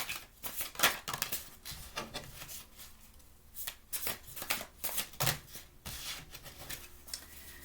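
Tarot cards being shuffled by hand in repeated riffling bursts with brief pauses between, close up and fairly quiet, with no talking.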